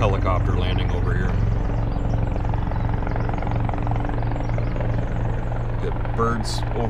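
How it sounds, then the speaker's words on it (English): Helicopter landing nearby outdoors, a loud steady rotor chop and engine roar filling the whole stretch, with birds chirping faintly in the background. "Just got a helicopter landing over here."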